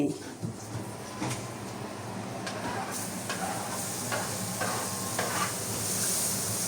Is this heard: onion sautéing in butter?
yes